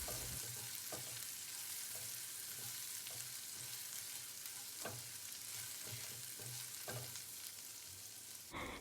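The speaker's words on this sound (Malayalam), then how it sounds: "എന്നിട്ട് ഇതിൻ്റെ ഒരു പച്ചമണം പോകുന്നത് വരെ നമുക്കിതൊന്ന് വഴറ്റിയെടുക്കാം" Mushrooms with garlic and ginger sautéing in a pan, a steady close sizzle with repeated soft scrapes and taps of a spatula stirring, no voices.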